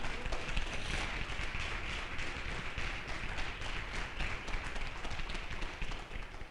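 A church audience claps together in praise of Jesus, a dense, sustained wash of applause that stays fairly even throughout.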